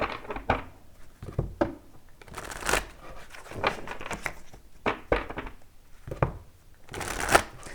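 Tarot cards are shuffled by hand in repeated bursts, each riffle a crisp papery flutter separated by short pauses, close and fairly loud with no talk.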